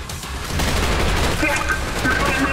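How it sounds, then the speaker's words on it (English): Dense gunfire from the Trepang2 action shooter, with rapid overlapping bursts and booms filling the mix as a shouting squad voice carries over the continuous firefight. "Squad and cover! Fire! Suppress the fire!"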